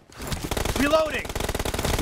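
Rapid automatic gunfire in the mobile shooter PUBG, a close, steady rattle of shots for about two seconds with a voice over it.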